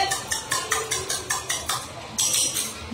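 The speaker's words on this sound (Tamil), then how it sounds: "ஸ்பூனை வச்சு நல்லா மிக்ஸ் பண்ணிடணும்" A spoon stirs a cumin mixture in a steel tumbler, scraping and clinking against the sides in a steady rhythm of about six close, bright strokes, followed by a couple of lighter taps.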